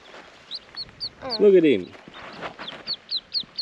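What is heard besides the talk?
little duck calling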